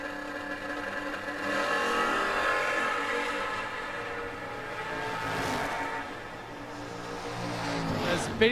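Drag racing cars, a Camaro and a Nova, roar down a strip at a fall race event, a loud continuous engine drone that swells and fades slightly at a distance, with no voices over it.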